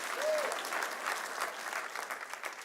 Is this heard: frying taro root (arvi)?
no